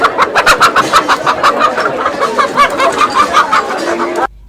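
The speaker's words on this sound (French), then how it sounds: "quelques poules de la race locale sont exposées au-dessus des poulaillers garnis de volailles" Local-breed chickens at a market cluck in a loud, busy chorus of quick repeated calls, close by and continuous, before cutting off abruptly near the end.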